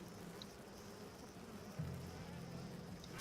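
Bees buzz from the hive of the character Ah Muzen Cab in the video game SMITE, a faint, steady insect drone with a low thump partway through, and no one speaks.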